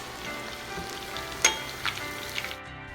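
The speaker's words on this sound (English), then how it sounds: "listen to that bubbling sound of goodness." Breaded chicken frying in a pot of hot oil, a soft continuous sizzle and bubbling at low level, with a few brief louder crackles and pops punctuating the steady hiss.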